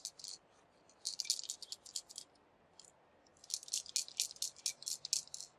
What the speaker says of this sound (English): When shaking the GFCI, we can hear something is loose inside.